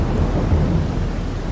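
Thunder rumbles loud and close over steady rain in the farming video game Farming Simulator 22, a brief deep roll with no voices.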